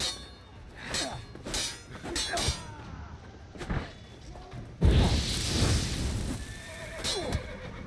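Horses in The Witcher 3 neigh and whinny loudly several times during a combat scene, with clip-clopping hooves and a sudden burst of clattering noise partway through.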